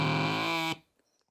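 A bagpipe chanter sounds low G blown too lightly, a thin reedy buzzing tone held under a second before cutting off abruptly into near silence.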